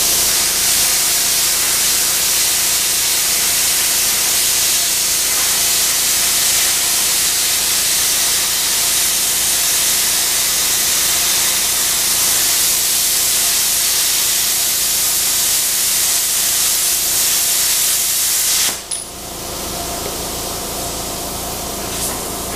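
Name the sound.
air compressor running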